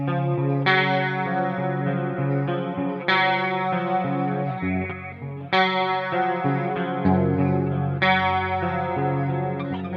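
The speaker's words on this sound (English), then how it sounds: "It's that beautiful sort of 80s chorus sound." Electric guitar through the S-Gear 3 amp sim plugin, with delay, a 4x12 cabinet miked by a ribbon 160 at the cap edge, and a shimmering 80s chorus, plays sustained, ringing chords that change every few seconds, lush and steady with no voices.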